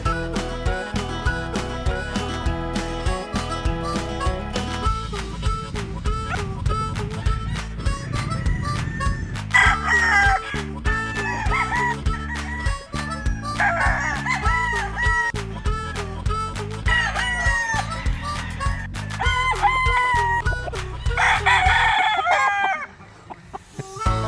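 A rooster crows repeatedly, loud and near, alongside clucking chickens and other farmyard noise in Bataan, Philippines.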